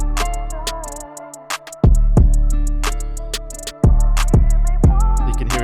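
A mixed hip-hop beat plays with a deep 808 bass layered under a punchy kick drum, the heavy hits landing about every two seconds amid quick, bright percussion ticks, with no voices.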